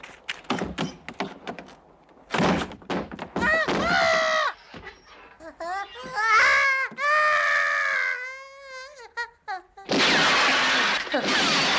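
Mirror glass shatters in a sharp crash, followed by further bumps, a yelling voice and a loud final burst of breaking and clatter, with people talking in between.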